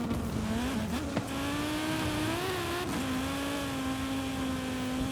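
Car engine in Forza Horizon 5 held near redline on mud and snow, a loud sustained high-pitched drone with slight wavering pitch and brief dips as the revs hitch.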